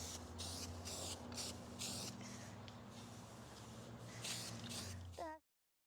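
A spray gun lays primer on a stretched Marmon car frame in a shop, hissing in repeated bursts of a second or less over a steady background hum, then cutting off abruptly.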